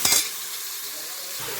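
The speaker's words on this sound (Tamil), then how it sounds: "ஒரு மீடியம் சைஸ் தக்காளி போட்டுட்டேன். நல்லா வதக்கலாம்." A medium tomato being sautéed in a pan for a country chicken curry, opening with a short burst of clinking and stirring, then settling into a steady, close sizzle.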